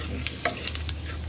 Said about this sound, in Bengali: একটু ভাজা ভাজা হয়ে নে।